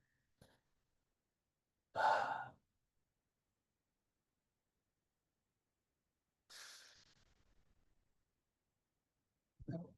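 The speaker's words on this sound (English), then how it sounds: "Breathing." Slow breaths during a yoga session: a loud exhale, a softer long breath a few seconds later, and a short one at the end, set apart by near silence.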